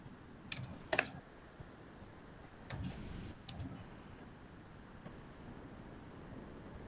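A few sparse keystrokes on a computer keyboard during a live chat test, sharp clicks in small bursts with pauses between, close and fairly quiet over a low background hum.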